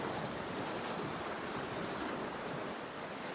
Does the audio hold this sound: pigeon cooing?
no